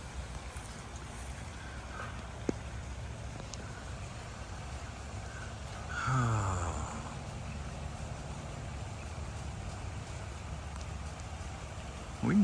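Steady rain falls on a pond or swamp outdoors, a dense even patter near the microphone throughout, with a brief louder splash or rustle partway through and no talk.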